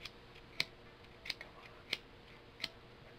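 Scissors snip the end of a kite line after a knot, four crisp separate cuts spaced roughly evenly, close and clear against a quiet background with no talking.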